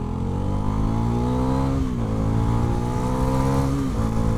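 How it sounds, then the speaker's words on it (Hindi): A Bajaj Pulsar NS400 motorcycle pulls hard under acceleration, its engine droning loud and close with a steady rising note and brief dips at gear changes, no voices. "बाकी थोड़ा सा इसको एक बार पुलिंग करके देखते हैं, क्योंकि जो NS है वो बोलते हैं हाँ NS पुलिंग पावर में अच्छी है।"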